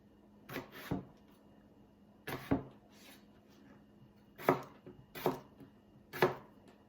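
A knife cuts Yukon Gold potatoes into inch-sized chunks on a board, giving crisp, close chopping thuds in short pairs and clusters with quiet pauses between, no talk.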